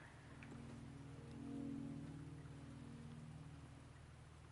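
Steady rain falls in the video game Wuthering Waves, a soft continuous patter of drops with a low hum underneath, faint and even throughout.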